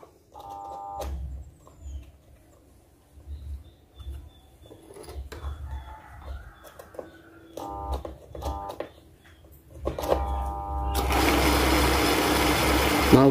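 A Pertamini fuel pump's electric motor hums without spinning: short repeated bursts of buzzing hum with small clicks in between, ending in a louder, sustained whirring noise.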